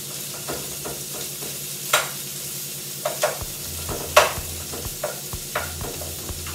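Chorizo sautéing in a pan over lowered gas heat, a steady soft sizzle with occasional stirring scrapes and light clicks, close and unbroken, no voices.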